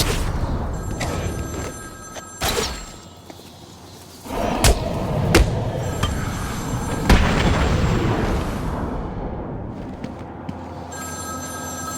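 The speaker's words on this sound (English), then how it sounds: "Answer my phone and answer it quick" A telephone rings in Batman: Arkham City, repeated bell-like tones over heavy game booms and rumbling effects, fairly loud and steady across the scene.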